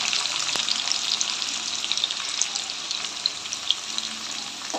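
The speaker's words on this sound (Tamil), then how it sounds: "வெங்காயம் நல்லா வதங்கணும்" Garlic, onions and green chillies sautéing in a pan for a Tamil fish curry, a steady close sizzle and crackle that runs without a break, with a faint clink near the start and no voices.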